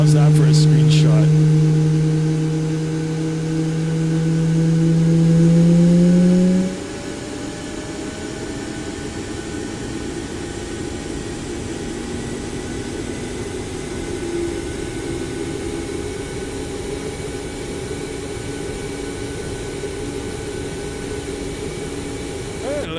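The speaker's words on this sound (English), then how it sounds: "Looks like we've got 2 good engine starts." Twin jet engines of an iFly Boeing 737 spooling up in Microsoft Flight Simulator 2024, a steady rising whine and hum that shifts pitch and settles into a continuous idle roar, with no talking.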